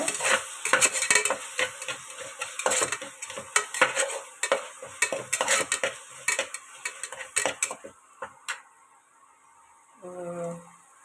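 Ingredients for tomato rice are sautéed in a pan with rapid, rhythmic scraping strokes and a light sizzle, close and busy, easing off before a voice speaks briefly at the end.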